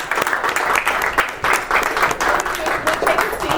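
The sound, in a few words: audience round of applause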